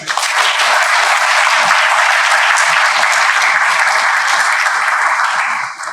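An audience at a university mathematics event welcomes a professor with applause, a bright, sustained burst of many hands clapping evenly for about six seconds, tapering slightly at the end.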